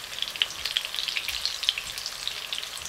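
Meatballs sizzle and fry steadily in a hot pan, a dense, crackling hiss with scattered pops throughout, close and continuous with no talking.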